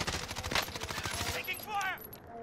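Video-game gunfire crackles in a rapid burst of close shots during an online team match, followed by a short radio-style voice line.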